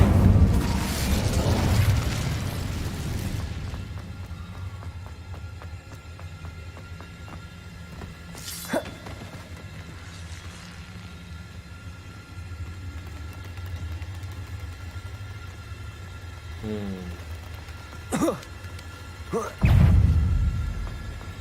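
A fire spell bursts with a loud whooshing blast at the start in the Hogwarts Legacy game. Quieter game ambience follows, with a few brief pops and another burst near the end.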